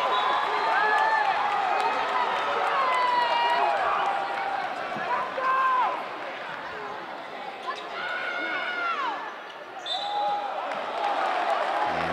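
Crowd noise fills a high school boys' basketball playoff game, a steady murmur and cheering in a gym with sneaker squeaks and ball bounces, continuous and fairly loud throughout.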